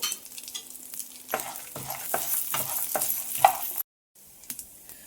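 Urad dal and spices roasting in a hot pan, a steady dry sizzle broken by repeated scraping stirs of a spoon, close and clear, with a brief pause near the end before the sizzle resumes.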